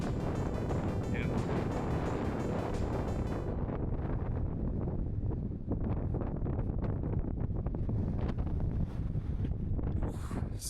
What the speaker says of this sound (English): Super windy, guys. This is why we're not surfing today.